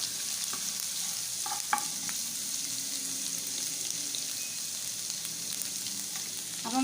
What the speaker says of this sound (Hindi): इसको हम थोड़ा सा ब्राउन कर लेंगे ताकि इसकी कचास जो है वो दूर हो जाए